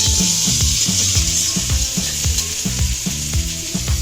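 Potatoes fry on onion and garlic in a pan with a constant close sizzle, while a spatula scrapes and taps in a steady rhythm throughout.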